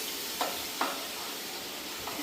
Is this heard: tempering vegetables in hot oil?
yes